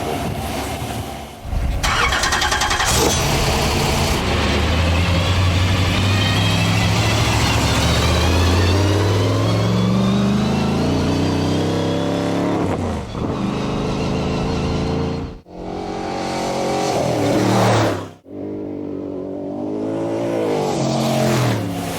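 A vehicle engine on a Terrible Herbst ride starts and runs while new gears and brakes warm up, revving up and down loudly and close for a long stretch, with a couple of brief cutoffs.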